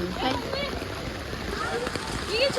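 Rough sea waves breaking on a beach, a continuous churning wash with splashy surges, heard under people talking nearby.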